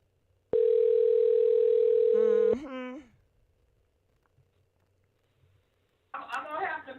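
A steady telephone dial tone sounds loud and clean for about two seconds during a call, then cuts off into a brief wavering tone, followed by silence and then a person talking.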